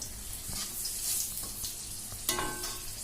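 Panch phoron, bay leaf and a dried red chili frying in hot oil: a steady close sizzle with scraping stir strokes and a sharp clank of a utensil near the end.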